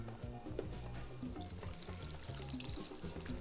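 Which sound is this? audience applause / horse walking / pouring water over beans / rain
pouring water over beans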